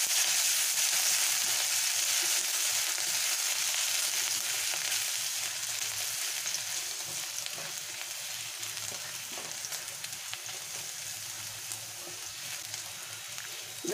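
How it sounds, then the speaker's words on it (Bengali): Garlic fries in hot oil with dried red chillies, a continuous close, even hiss and crackle that holds steady for the whole stretch with no talk over it. "তো রসুনটাকে আমি ভালো করে ভেজে নেব।"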